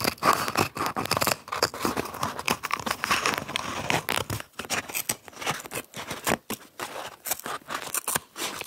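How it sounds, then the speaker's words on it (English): Scissors cut paper up close in quick, aggressive snips, with a crisp crinkling rustle between the repeated cuts. "So I'm going to cut this one, this new one, and we'll see how it goes."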